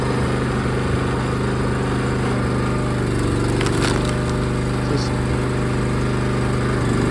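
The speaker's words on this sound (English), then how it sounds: "That's a Honda Clone engine there from China." A small Chinese Honda-clone petrol engine on a wood splitting machine runs steadily throughout with a constant droning hum, close by and fairly loud, with no change in speed.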